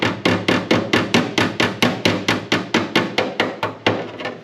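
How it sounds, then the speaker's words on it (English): Hammer striking a dolly held behind sheet metal on the firewall of a 1963 Chevy II gasser, about sixteen evenly spaced sharp metallic blows in a steady rhythm, close and clear with no talk. "I take hammer and dolly and I just put this in behind it"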